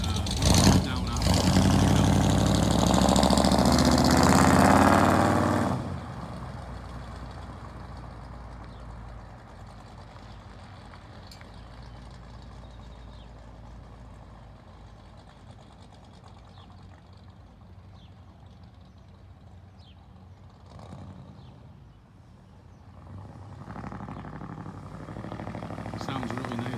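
A 1957 Chevrolet Bel Air with a 327 V8 rated at 360 horsepower. Its exhaust gives a loud roaring blast for several seconds, then drops to a low idling rumble and swells again near the end.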